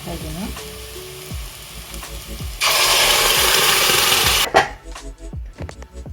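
Onions browned to a reddish colour fry in hot oil in a home kitchen as turmeric powder and dried fenugreek leaves are stirred in, with scraping stirs, a loud burst of sizzling in the middle, then lighter clatter.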